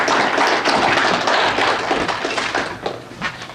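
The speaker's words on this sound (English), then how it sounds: "So let's give him a round of applause." An audience at an aerial applicator safety meeting applauds a speaker from the Department of Agriculture, steady dense clapping that is close and loud and tapers slightly near the end.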